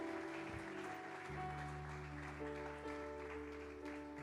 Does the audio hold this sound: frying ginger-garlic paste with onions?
no